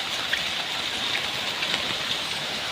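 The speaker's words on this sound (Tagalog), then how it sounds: "Ulan na ang panahon." Heavy rain suddenly pouring onto a street, a dense steady hiss of drops with faint pattering ticks, close and even throughout.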